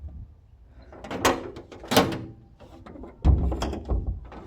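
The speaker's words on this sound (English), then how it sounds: "I'm trying to close these doors." Doors being closed at a house under construction, a few loud knocks and clunks with scraping and rattling in between, close by and with no talking.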